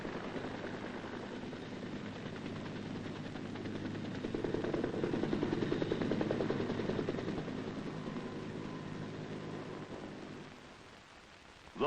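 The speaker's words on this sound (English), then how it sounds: "A combined machine gun and rocket run on an area smashes the hide-and-seek tactics of the" Rolling rotor-like rumble of a UH-1B armed helicopter making a combined machine gun and rocket run in Vietnam, a dense broadband roar that swells in the middle and fades away.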